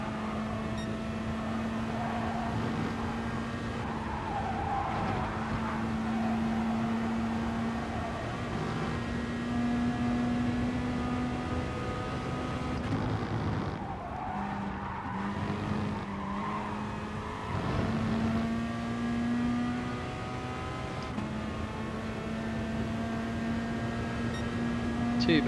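Peugeot race car in the GT Sport video game on a racing circuit, a steady high-pitched engine whine that climbs and drops with gear changes across a long stretch, moderately loud, with occasional faint talk underneath.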